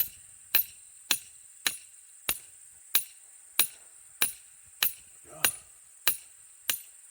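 A hammer strikes metal in a steady, evenly spaced series of about twelve sharp, ringing blows while forging tools for yamadori work, each hit close and bright with a short decay.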